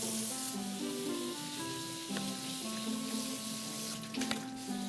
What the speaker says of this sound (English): You're going to want to use some warm water and some antibacterial soap, and just rub your hands together vigorously for about 30 seconds.